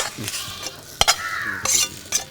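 Small onions with turmeric frying in a pan: a short burst of close sizzling with a few sharp clinks and scrapes of a spoon stirring against the pan.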